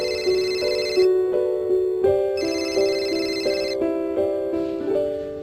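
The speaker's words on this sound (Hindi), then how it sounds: "लेकिन नए घर में दाखिल होते ही फोन की घंटी बजी।" A telephone rings with a melodic electronic ringtone, repeating a short stepped tune in loud, clear bursts about every second, close up and alone without talk.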